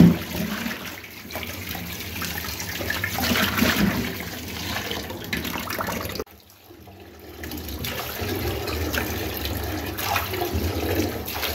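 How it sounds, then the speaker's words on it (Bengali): Fish being washed with water and turmeric, running water splashing and trickling in a sink, close and steady with a brief pause partway through before the flow resumes. "আমি ধুয়ে দিচ্ছি হলুদ দিয়ে ভালোভাবে।"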